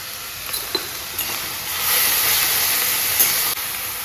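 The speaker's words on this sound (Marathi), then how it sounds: "आता आपण भाजी टाकून घेऊया." Wild monsoon greens, taklyachi bhaji, hit a hot cooking pan and release a loud, steady hiss of steam that swells midway, with a few sharp clicks and taps early on and a sudden drop near the end.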